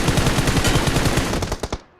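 Rapid automatic gunfire in PUBG Mobile rattles continuously in a dense, loud burst, ending with a few separate shots before cutting off.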